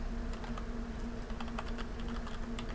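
A computer keyboard is used to type a prompt into a locally run AI chat, with quick irregular key clicks in a steady close run over a low constant hum.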